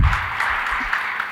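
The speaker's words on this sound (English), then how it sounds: "Let's give Mr. Ratner a hand of applause." Brief burst of audience applause at the Cleveland International Hall of Fame induction ceremony, a steady wash of clapping that stays fairly even for about a second and a half.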